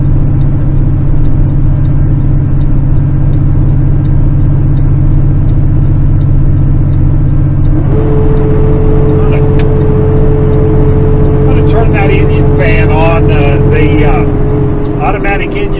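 A loaded truck engine labours steadily up a long hill on a remote Utah mountain road, a loud constant low drone throughout, with an added higher whine joining partway through as a cooling fan kicks on.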